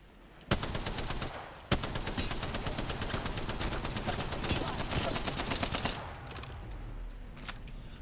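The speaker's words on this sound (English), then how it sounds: "Bro, I'm getting shot behind us." Rapid automatic gunfire in an Apex Legends battle, dense bursts of sharp cracks firing almost continuously for several seconds, with two louder nearby shots standing out before the shooting thins into scattered distant pops.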